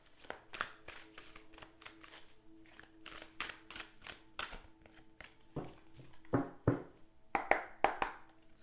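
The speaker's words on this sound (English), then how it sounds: "3 more shuffles and then I'll cut it." A tarot card deck is shuffled and cut by hand, with a run of soft, quick riffling taps and brushes close by, ending in a few sharper slaps as the cards are split and set down; no talking.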